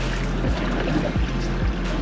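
A Highfield Patrol 660 boat's outboard engine drones steadily up close while throttled back, a low continuous hum with water slapping at the hull and brief periodic thumps.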